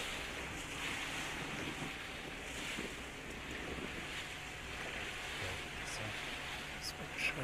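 Ocean surf and gusting wind of about 18 to 20 knots off Arrecife, Lanzarote, during an ocean racing championship, a steady roaring wash of waves with heavy wind buffeting on the microphone and occasional faint boat noise.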